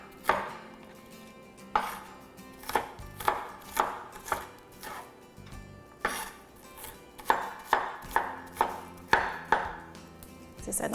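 A knife finely chops vegetables for a lentil and vegetable stew, giving crisp close thuds on a board in irregular bursts, some quick runs of strikes, with no talking.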